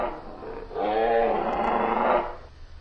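A voice imitates a dinosaur roar, a loud, close, growling roar that holds for about two seconds before dropping away.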